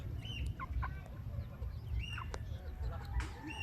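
Young cockerels clucking and squawking in short, overlapping calls, close and fairly faint, with a low background rumble and some talking mixed in.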